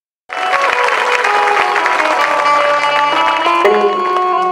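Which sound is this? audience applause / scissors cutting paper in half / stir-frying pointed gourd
audience applause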